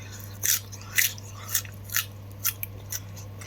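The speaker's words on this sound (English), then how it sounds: "Listen how crunchy this is." Sharp crunchy bites repeat roughly every half second, six or seven crisp crunches close up against quiet background hum.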